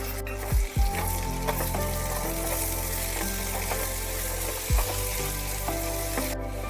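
A spice paste poured over fried potatoes sizzles loudly in the pan for a vegetarian chhana curry, a dense continuous fry with a few clunks of the utensil against the pan and no speech.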